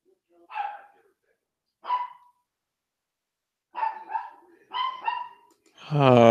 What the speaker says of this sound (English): No barking, you two.